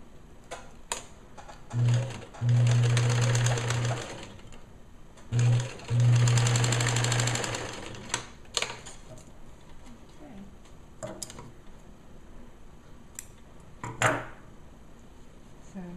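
A sewing machine stitches a bonnet for a bereavement gown in two short whirring bursts, with small clicks and handling noises around them and no continuous talk.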